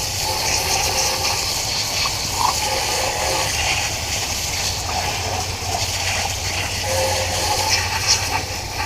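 A garden hose gently rinses the engine bay of a 2007 Toyota Camry, giving a steady, soft spray and splash of water throughout, with no pressure washer.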